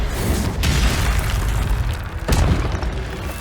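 Fiery Incendio spell blasts in Hogwarts Legacy, two rushing bursts of flame over a dense, roaring combat background, loud and close.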